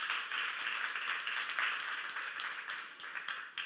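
A church youth congregation claps during a sermon, faint and somewhat distant, with a steady patter of many hands and a few sharper claps standing out, lasting a few seconds.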